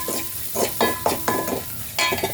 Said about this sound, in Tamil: எண்ணெயிலே ஃப்ரை பண்ணிக்கிறோம்.